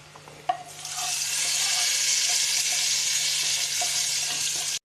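A hot tempering hits the dal with a sharp splash, then a loud, steady sizzle and bubbling frying hiss that holds close and continuous to the end.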